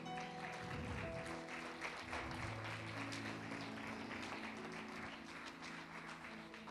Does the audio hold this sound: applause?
yes